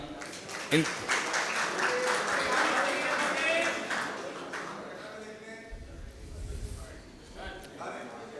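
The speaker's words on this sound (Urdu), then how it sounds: "محترمہ کشور زہرا صاحبہ پلیز تالیاں" Brisk applause from a crowd at a book launch rings out for about four seconds, then fades as people begin talking.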